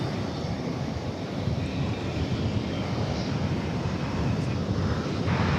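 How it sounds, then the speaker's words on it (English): An American Airlines Airbus A320 jet arriving at Dallas Fort Worth airport from El Paso gives a continuous broad roar that swells slightly, steady and fairly loud, with wind-like rumble and no voices. "Next to arrive is American Flight 946 from El Paso, Texas. An Airbus A320, there it is."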